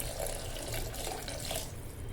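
Water pours in a steady, continuous stream into a cooking curry for a couple of seconds, a close splashing pour with no talking.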